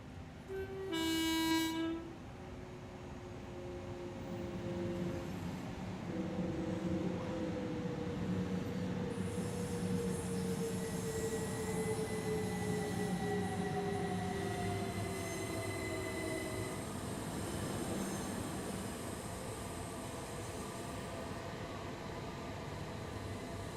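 A train rolls past in Train Sim World, a long steady rumble with squealing wheel tones and a short horn blast near the start, with no talk.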